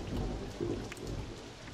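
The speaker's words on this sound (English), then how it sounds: "And it's raining!" Rain and a thunderstorm in the video game Roller Coaster Tycoon 2: a soft, continuous patter of rainfall with low rumbling thunder underneath, faint and steady throughout.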